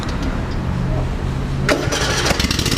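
A zero-turn lawn mower engine cranks with a low rumble, then catches and fires into a rough, uneven idle. It is close and fairly loud, with faint voices nearby.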